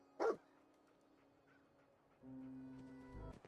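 A dog barks once sharply in the Fallout 4 video game, then a quiet stretch follows before a steady tonal hum and a brief louder burst near the end.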